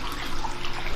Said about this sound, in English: So all this is just overflowing down into this pond